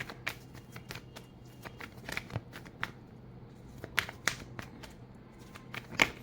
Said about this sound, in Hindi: पहले हम पूरे कार्ड्स शफल कर लें।